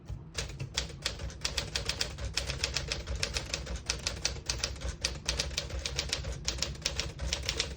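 A 1956 Smith-Corona Silent-Super portable typewriter clacks under steady typing, with rapid bursts of keystrikes in close, crisp succession and brief pauses between runs, nearby and with no voices.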